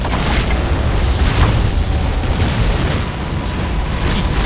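Explosions from friendly fire strike a Merkava tank in a modern military video game, producing a sustained, loud rumbling barrage of booms and bursts close by.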